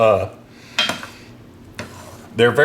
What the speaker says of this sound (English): then you just kind of want to stir it around just a little bit